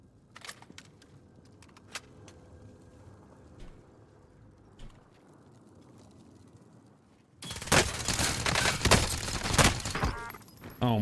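Milano submachine gun in Warzone, with sparse scattered shots and clicks at first, then a loud, dense burst of sustained automatic fire over the final few seconds.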